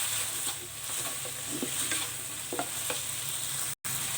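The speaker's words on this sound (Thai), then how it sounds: "เสร็จแล้วเราก็คนนะคะผัดให้มีความเผ็ดนะคะ" Steady sizzling from a hot pan stir-frying chicken basil with sliced red chili, with occasional scraping and stirring clicks, close up and continuous, no voices.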